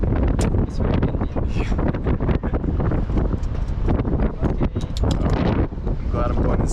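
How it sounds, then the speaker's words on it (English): Strong wind buffets the microphone high up on the Menara KL Tower in Kuala Lumpur, a loud, gusty rumble that roars and flutters continuously and drowns much of the scene. "It's very windy."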